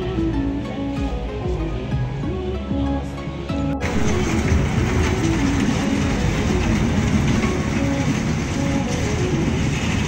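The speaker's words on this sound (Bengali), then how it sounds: "ট্রেনটা" A train passes close by. A softer tonal hum suddenly gives way to a loud, steady, broadband rumble and rattle of the cars that continues to the end.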